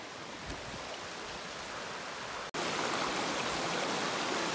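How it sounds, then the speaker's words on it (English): Big Bald Rock Brook on the Cape Chignecto trail flows as a steady, close hiss of rushing water, briefly cut by a gap before resuming slightly louder. "So I made it to Big Bald Rock Brook."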